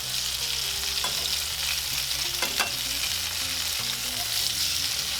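Salmon fillet frying in a pan just after being flipped, giving a steady, dense sizzle and crackle with a few sharper pops, close and continuous.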